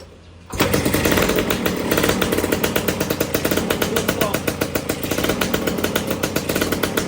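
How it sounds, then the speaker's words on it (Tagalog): A Suzuki RS 100 motorcycle with a modified exhaust starts up and idles loudly with a rapid, rough, popping exhaust beat, steady and close for several seconds. "Modified na rin yung tambucho niya ha."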